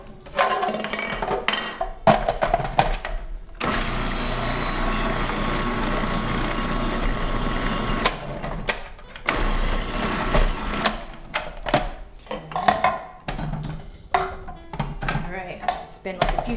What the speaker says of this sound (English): talking about using the food processor